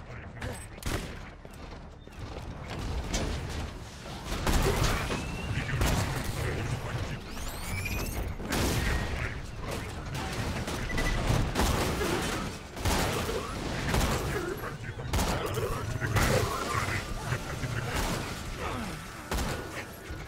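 Sustained gunfire in the video game Borderlands 2 fills the whole stretch, with rapid bursts and shots layered over game effects and a player talking throughout.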